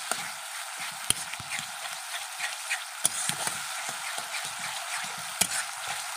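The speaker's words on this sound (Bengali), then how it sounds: "মশলাটা খুব সুন্দর করে কষিয়ে নেব" Spice masala of chilli powder and a little sugar fries in oil in a pan for a dhaba-style egg curry, with a steady hiss broken by sharp scraping clicks of a spatula stirring, close and fairly loud.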